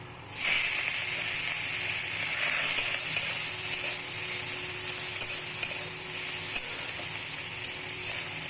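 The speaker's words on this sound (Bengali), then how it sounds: "চিংড়ি মাছটা ভেজে নেব" Salted prawns fry in hot oil for a Bengali prawn and Malabar spinach dish, giving a steady, loud sizzle that runs unbroken from the first half second onward, close to the pan, with no talk.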